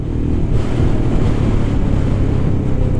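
Royal Enfield Scram 411 single-cylinder motorcycle exhaust roaring steadily as it is revved on a ride, a continuous loud low rumble mixed with wind rush, no pauses.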